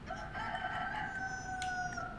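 Rooster crowing in DayZ, one drawn-out cock-a-doodle-doo heard clearly and alone against a quiet outdoor background.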